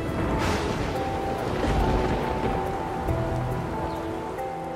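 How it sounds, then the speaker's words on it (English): Rain pours steadily at a cenote dive site in the Maya region, a dense, continuous wash of drops pattering on water and leaves with no voices. "We got rained out by the Maya water god Chalk and left with no visibility."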